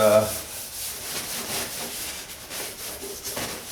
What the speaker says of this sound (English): just going to go ahead and scuff the whole thing because we're going to be painting